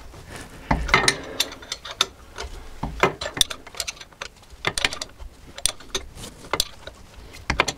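A ratchet wrench tightens a bolt on the rear differential of a Renault Rodius in a home garage, giving bursts of close, sharp clicking strokes in an irregular rhythm with short pauses between.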